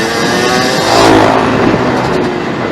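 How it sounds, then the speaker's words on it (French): A 50cc moped engine revs hard and loud, a dense buzzing roar that swells in the middle and stays close throughout, with no voices. "Vous avez entendu son moteur?"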